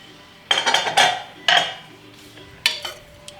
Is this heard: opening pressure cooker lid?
yes